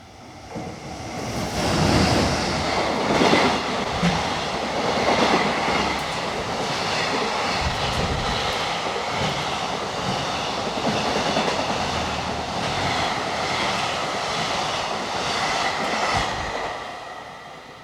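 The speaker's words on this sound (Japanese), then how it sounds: "61列車、スーパーライナー、田代鳥栖貨物ターミナル行きです。" Super Liner freight train passing on the Kagoshima Main Line in Japan, a loud continuous rumble and roar of wagons rolling by with rhythmic clickety-clack of wheels over rail joints throughout.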